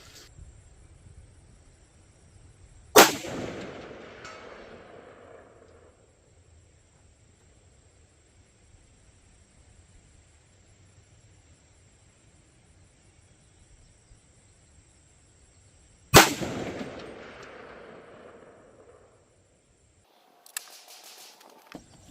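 Two .300 Blackout rifle shots with 110-grain ammunition ring out outdoors, well spaced, each a sharp crack trailing into a long echo. Quiet ambience and faint insect sounds fill the gaps, with a small clatter at the end.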